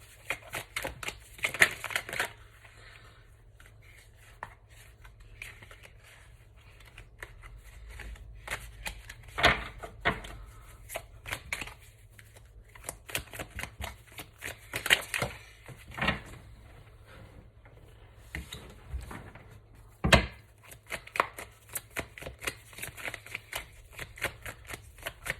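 Tarot cards are shuffled and drawn from a deck, producing repeated close riffling and sliding bursts separated by quiet pauses, with occasional soft taps as cards are set down.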